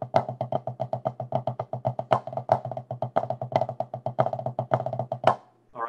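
Snare drum flam rudiments in a 12/8 feel, with flam drags, flam stutters and flam fives played as a fast, steady stream of crisp strokes and louder accents, alone and close.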